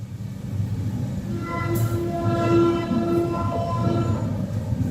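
A Bengaluru–Visakhapatnam express train pulls out of Renigunta Junction with a loud, steady rolling rumble. A long horn blast sounds partway through, then fades back into the running noise.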